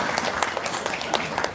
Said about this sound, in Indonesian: tepuk tangan dong dari Padang